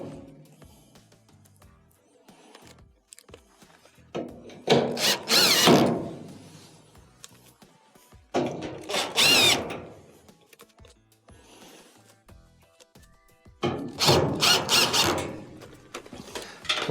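Phillips screws are driven back into a dryer's idler pulley bracket with a power driver, heard as three separate loud whirring bursts of a few seconds each, with quiet clicks and handling noises between them.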